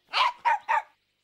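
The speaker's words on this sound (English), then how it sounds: "That barking was coming from over there." A dog barks three times in quick succession, close by and moderately loud, in an outdoor garden setting, with silence after the last bark.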